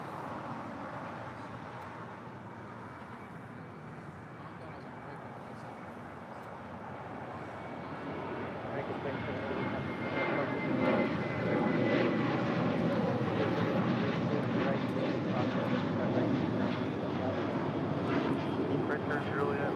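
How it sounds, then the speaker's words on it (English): American Airlines Boeing 737-800 departing LAX for Austin, its jet engine roar swelling from a distant rumble to a loud, sustained broadband thrust about halfway through, with no talk over it. "Next departure, American Airlines flight 2780 heading to Austin, Texas, a 737-800."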